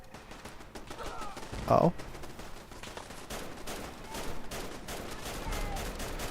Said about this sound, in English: Who was shooting bullets at stuff, bro?